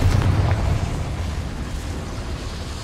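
A Confringo spell blast goes off in Hogwarts Legacy. A loud, deep explosive boom opens at full strength, then settles into a rolling rumble that slowly fades over about three seconds.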